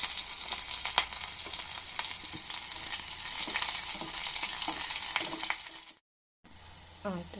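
Finely chopped shallots sautéing in a pan for a Malayali pumpkin dish, a steady crackling sizzle with stirring scrapes throughout, then a short silence and a brief voice at the end.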